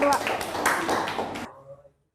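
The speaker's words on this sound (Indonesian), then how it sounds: "Tepuk tangan buat kelompok" Classmates in a school physics lesson give a brief round of clapping for a presenting group, ending abruptly after about a second and a half.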